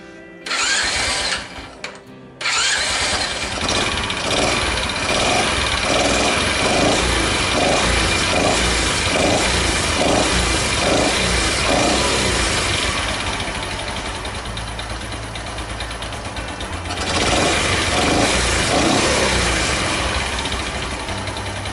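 A Honda Super Cub motorcycle engine cranks briefly, then catches and settles into a steady, loud, buzzing idle with a rapid rhythmic putter that dips and returns.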